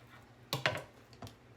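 Knife cutting cooked canned chicken breast into cubes, a few sharp chopping taps against a board in quick, uneven succession, close and fairly clear over a quiet room.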